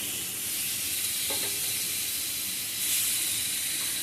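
Pork steaks sizzle steadily on an Ozark Trail griddle, a loud, continuous hiss of frying fat heard up close with no talking.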